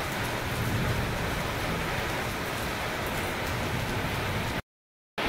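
Heavy monsoon rain pours steadily in a broad, hissing wash, with low thunder rumbling underneath; the downpour is loud and continuous, then cuts out abruptly near the end before briefly resuming.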